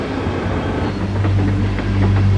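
A freight train over 1.5 miles long and weighing over 14,000 tons, hauling huge grain cars toward Vancouver, rumbles past with a deep steady drone and faint rhythmic wheel clatter, growing slightly louder toward the end.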